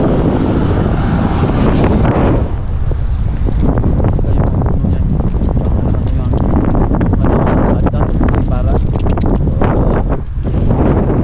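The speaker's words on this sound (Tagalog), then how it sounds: "Grabe ang lakas ng hangin mga Choy" Loud, roaring wind buffets the microphone continuously, with gusty rumbling throughout and a voice talking underneath.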